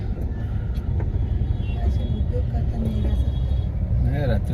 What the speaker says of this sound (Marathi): भरलेला ट्रक आहे